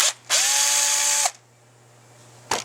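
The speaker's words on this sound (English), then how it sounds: "You want to remove this center screw," A power drill or driver whines steadily for about a second while removing the center screw from a GMC or Chevrolet car AC valve, loud and close, with a steady low hum underneath and brief bursts before and after.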